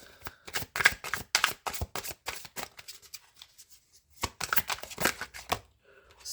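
Playing cards are handled in a tarot-style reading, with quick crisp snaps and slides as a card is drawn and laid down, in close bursts separated by short pauses.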